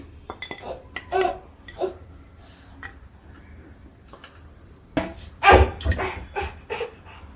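Champaran handi mutton being served from a clay pot onto a plate: sparse clinks and scrapes of a spoon against metal and pot, with a louder cluster of knocks near the end, no talking.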